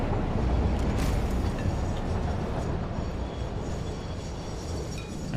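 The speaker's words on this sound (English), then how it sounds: "the wire train's been come and gone" A train rolls past in the factory-building game Satisfactory, a steady loud rumble of wheels on rails with faint metallic clinks and clacks, slowly easing off as it moves away.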